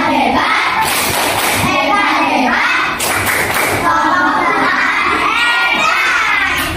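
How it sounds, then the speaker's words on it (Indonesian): A group of children claps in rhythmic bursts and shouts together in a chanted cheer for group 8, loud and close with crowd noise throughout. "Tepuk hebat untuk kelompok 8"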